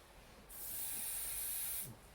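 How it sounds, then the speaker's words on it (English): A single sustained hiss of aerosol spray lasting over a second, close and fairly loud, set against a quiet background, during a Triumph TR7 engine teardown. "I've given it a bit of a spray."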